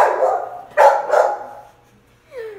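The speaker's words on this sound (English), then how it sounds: "Her aggressive bark." A dog barks aggressively up close, with two sharp, loud barks in quick succession after a lower growling tone, followed by a short whine.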